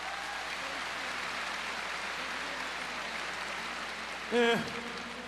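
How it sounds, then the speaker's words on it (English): A Pride FC arena crowd gives both fighters a steady wash of polite applause after a 2004 Grand Prix fight, and a brief louder burst of sound cuts in near the end. "Takada asks the crowd to salute both fighters, Silva from Brazil, Kondo from Japan, each receiving polite applause"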